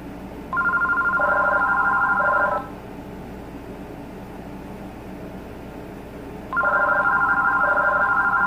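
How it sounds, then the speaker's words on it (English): An AT&T CL82301 cordless phone rings on a test call, two loud electronic trilling bursts of about two seconds each separated by a pause of roughly four seconds, heard alone over faint background hiss. "let's go ahead and test call the caller ID announce feature."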